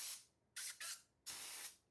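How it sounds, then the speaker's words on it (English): A spray gun mists glaze onto frozen desserts in bursts: a hissing spray, a pause, two quick close blasts, then one longer sustained spray, loud and near with no talking. "we're even gonna spray 3 desserts in less than 30 seconds"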